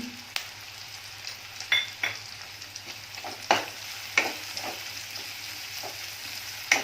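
Capsicum and green chili sautéing in oil, a soft steady sizzle under repeated spatula scrapes and clinks against the pan, close and fairly quiet with no speech.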